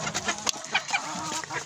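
Bantam hens clucking close by, a few overlapping short clucks and murmurs in a busy farmyard in winter.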